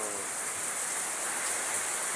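Heavy rain pours down in a continuous, hissing rush with no pauses, evenly loud throughout.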